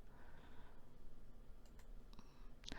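A computer mouse double-clicks while entering a transaction in accounting software, a few faint, sharp clicks over a quiet room background with no talk.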